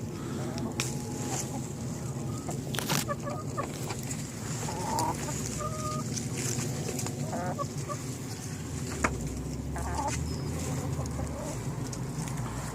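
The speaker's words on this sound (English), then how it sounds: "And the chickens, as usual, you may hear them, they're following us everywhere" Free-range farm chickens cluck and call in a busy, overlapping chorus from nearby as they follow harvesters through a damson plum orchard, with outdoor rustling and some background noise throughout.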